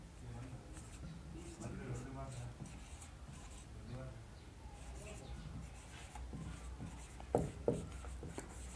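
Chalk or marker scratching and tapping on a classroom board during a physics lesson on units and measurements, continuous strokes with a few sharp taps near the end.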